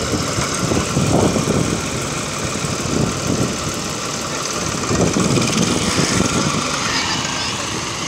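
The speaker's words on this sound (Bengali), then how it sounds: "এখন ট্রাকটি যাবে" A truck engine idles on a sandy beach, ready to haul a fishing boat out of the sea, a steady loud rumbling drone with slight rhythmic knocking and no break throughout.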